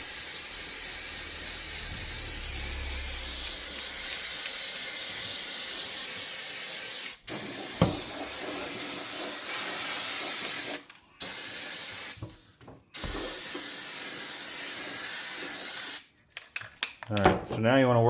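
Cleaner sprayed from a can onto a Yamaha YFZ450R ATV air filter, loud continuous hissing spray bursts up close, separated by short pauses, with a person talking near the end.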